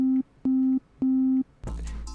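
A synthesized sine-wave tone made from scratch for a music one-shot sample sounds as three steady, evenly pitched beeps of differing lengths, close and clean, followed by a short burst of brighter, noisier sound.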